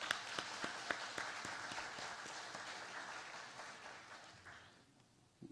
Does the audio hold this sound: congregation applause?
yes